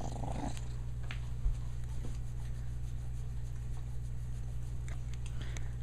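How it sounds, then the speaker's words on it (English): A cat purrs steadily and closely in a continuous low rumble, with faint soft ticks and rustles, no voices. "You're purring, Mickey."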